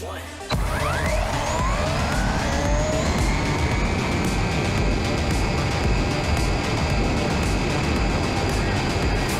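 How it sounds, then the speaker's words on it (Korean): A WLtoys 144010 electric RC car speeds along a two-lane road at high speed, its motor whine rising sharply in pitch right after a sudden start and then holding a loud, steady high drone with road rumble. "그럼 과연 얼마나 빨리 달릴 수 있는지 실제 주행을 통해 차량 성능부터 보여드릴게요"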